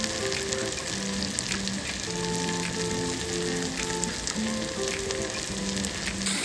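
Ginger paste and turmeric fry in a pan for a katla fish curry, giving a steady close sizzle throughout with faint tonal hum from the kitchen and no talk.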